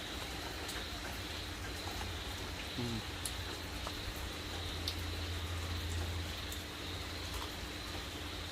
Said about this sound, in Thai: บรรยากาศฝนตกค่ะ ได้ยินเสียงฝนไหมคะ